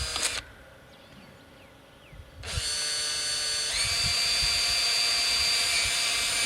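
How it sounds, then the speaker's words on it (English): A power drill with a 5mm bit whirs up loudly after a brief quieter pause, its high motor whine steady and close, with a short burst of drilling into alkathene pipe at the start. "So you drill your holes using a 5mm bit"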